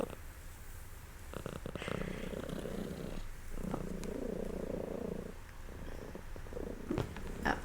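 Gigi the cat purrs close by in a quiet room, a low rumbling purr in repeated breathing cycles with short pauses between, soft and steady with no talk.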